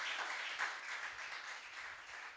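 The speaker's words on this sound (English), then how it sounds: "Please, a round of applause for him as well." Audience members at an export summit applaud for an honoured official, producing steady clapping that swells early, then tapers off slightly and stays moderately loud throughout.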